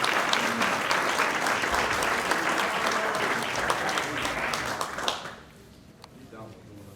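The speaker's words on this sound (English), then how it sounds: "Let's give him a round of applause." Audience at an awards banquet applauds steadily for about five seconds, a dense wash of many hands that cuts off abruptly, leaving a quiet room with faint murmuring.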